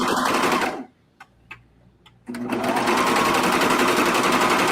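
A cover stitch sewing machine stitches fabric for wide-leg sweatpants, running in a loud steady whir that stops briefly for a few faint clicks, then starts up again and runs continuously.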